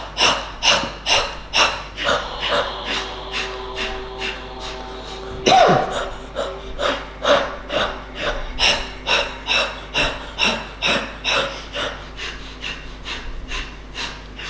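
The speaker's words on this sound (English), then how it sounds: "Breathing in and out through the nose, then alternating at the mouth as you see fit." Brisk yoga breathing through the nose, a steady run of quick, even, forceful inhale-exhale pulses, close and clear, with no talking.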